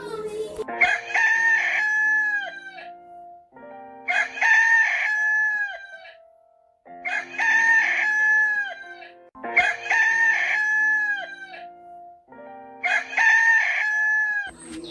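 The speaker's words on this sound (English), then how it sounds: "Kormaa, lukkuu, rooster." A rooster crows repeatedly, five loud cock-a-doodle-doo calls spaced a few seconds apart, close by and clear with short quiet gaps between them.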